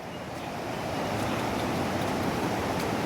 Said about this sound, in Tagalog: Grabing lakas ng tubig.